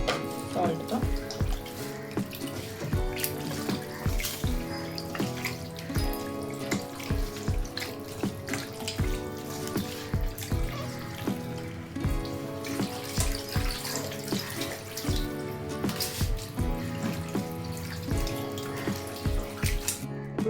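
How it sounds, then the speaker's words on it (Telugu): Running water and hand splashing while country chicken pieces are washed with salt in a home kitchen, a steady close wash with irregular splashes and someone talking over it. "ఇందులో కొంచెం సాల్ట్ వేసి కూడా వాష్ చేద్దాం ఒకసారి సాల్ట్తో"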